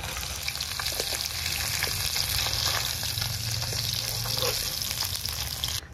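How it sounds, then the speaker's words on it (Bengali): Nigella seeds spit and sizzle steadily in hot oil left from frying bacha fish, a close, continuous crackling frying hiss with faint stirring scrapes and no talk. "আর তেল দেবো না, এই তেলে কালো জিরে ফোড়ন দেবো"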